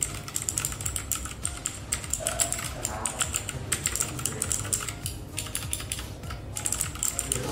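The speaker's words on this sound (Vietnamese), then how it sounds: "bây giờ mình sẽ demo cái phần bấm phím cho các bạn xem nhá" Fast typing on a DareU DK880 RGB mechanical-style keyboard, a dense run of sharp close clicky keystrokes with a brief soft voice in the background.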